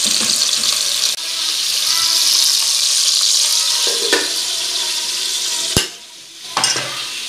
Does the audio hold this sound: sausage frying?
yes